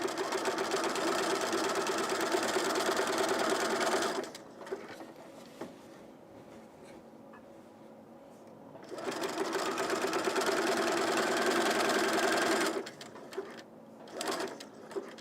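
A sewing machine stitching the seam of a woven top runs in two long, steady bursts of rapid, close whirring, with a quiet pause between them and soft handling noises near the end.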